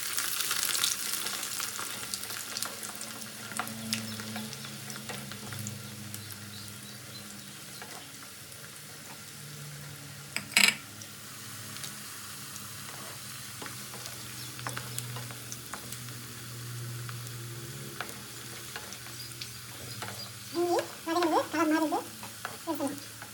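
Dried red chilies sizzle and crackle in hot oil, a steady fry with occasional stirring clinks and small pops, heard close at moderate volume.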